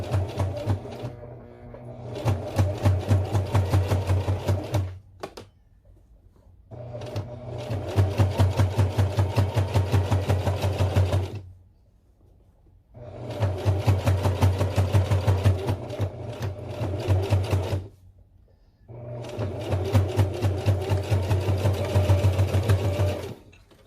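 A sewing machine stitches slowly through the many thick layers of a fabric pouch, its needle running in four steady bursts separated by short pauses, close and clear with no talking.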